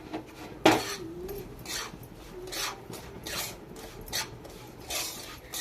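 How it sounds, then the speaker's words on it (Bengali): Semolina frying in ghee in a pan, stirred with a spoon: repeated soft scraping strokes, close and fairly quiet, with one sharper clink of the utensil near the start. "সুজিটাকে আমি ভেজে নেব, ঘিয়ের সঙ্গে ভালো করে ভেজে নেব। ভালো করে নেড়ে নিচ্ছি সুজিটাকে।"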